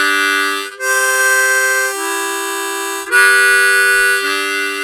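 Harmonica riff played alone and close, with sustained reedy chords alternating between blow and draw notes on holes 2 to 4, in four or five smooth phrases with brief breath breaks.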